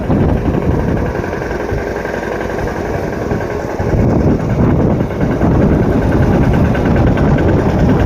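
A tractor engine rumbles loudly and steadily as it drives through a waterlogged road, its low chugging growing rougher and heavier partway through, with no talk.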